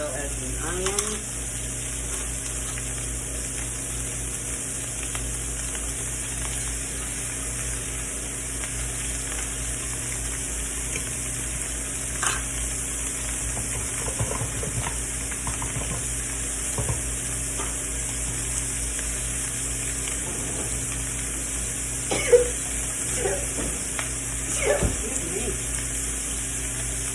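Bacon and onions sizzle in a pan under a constant, even hiss, with occasional stirring scrapes and faint knocks. Quiet talk comes and goes over the cooking.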